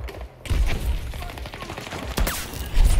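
Gunfire from a pocket sniper rifle in the shooter game Battlefield 2042, a burst of rapid shots followed by a couple of louder single cracks and thuds, with faint talk in the background.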